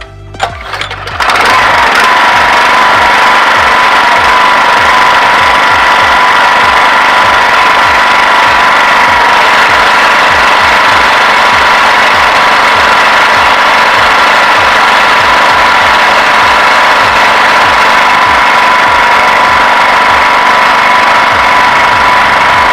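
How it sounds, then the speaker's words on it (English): A small engine drives the chain lift of a model roller coaster, running steadily and loudly with a constant droning hum for the whole stretch after a brief start. "pull up the lever, which will actually start the chain lift, will make the chain actually start to run"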